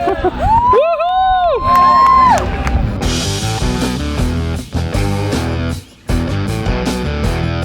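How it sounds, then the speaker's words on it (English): A crowd whoops and cheers at a finished vintage RV renovation, with shrill rising yells at first, then excited overlapping voices and chatter close by. "Got a whole crowd of people watching us."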